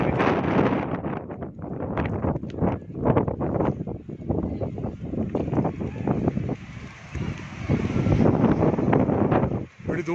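Strong wind buffets the microphone in loud, irregular gusts during a rainstorm at an old Hindu temple in Rasool Nagar, Wazirabad, a continuous rough roar that swells and fades without stopping.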